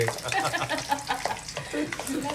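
Garlic, mustard seeds, fenugreek, onion, green chilli and curry leaves fry in a pan for a fish curry, a busy crackling sizzle with stirring scrapes up close and a faint voice behind.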